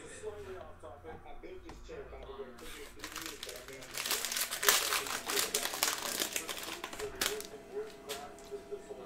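Cello-wrapped pack of 2019-20 Panini Mosaic basketball trading cards being torn open and its wrapper crinkled, a dense, loud run of crackling plastic and ripping close to the mic.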